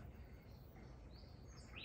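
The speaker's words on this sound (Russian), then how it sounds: "Птички поют." Morning birdsong drifts across a Bulgarian village, faint, distant chirps and short warbling phrases rising over a quiet, hissy outdoor background, with no voices.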